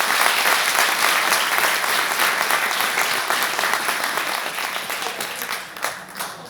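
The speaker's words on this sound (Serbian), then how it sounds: "u izvođenju čarobne Anđelije Milenković, pa vas molim da je još jednom nagradimo aplauzom." Sustained audience applause fills a hall at the opening of a veterans' gathering in Belgrade, right after the national anthem. Dense, steady clapping from a large crowd holds throughout and eases slightly near the end.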